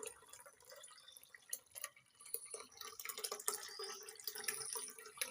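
Warm milk is poured into a container for setting curd, giving a faint, uneven trickling and splashing that builds over several seconds, heard alone at close range.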